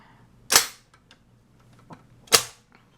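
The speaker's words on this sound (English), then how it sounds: "this is like a heavy-duty locking mechanism here" Two loud, sharp metallic clacks from a payphone's heavy-duty locking mechanism, about two seconds apart, with faint clicks and rattles between them, close up and otherwise quiet.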